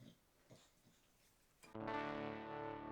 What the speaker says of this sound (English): It just sounds muffled and like it's as if you took a distorted amp and threw a blanket over it.